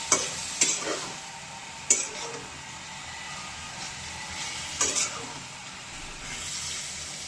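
Young goat meat curry with two tomatoes fries in a pot, a constant sizzle broken by a few sharp scraping stirs of a spoon against the metal.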